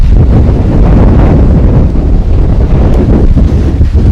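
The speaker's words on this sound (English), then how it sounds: "It's so windy and it's also raining" Strong wind with rain roars and buffets continuously at a roof-framing construction site, loud and rumbling close to the microphone.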